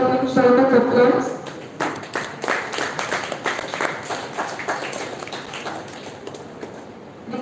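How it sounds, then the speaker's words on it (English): Applause welcoming the school manager at a school Republic Day celebration starts just after a voice speaking over a loudspeaker, then scattered clapping from the audience that gradually thins and fades. "Let us welcome him with a huge round of applause."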